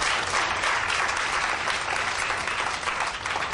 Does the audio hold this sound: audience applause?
yes